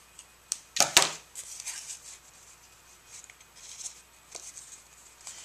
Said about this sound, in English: When you take your strip and just run it down your scissors and it starts to create a natural roll on it.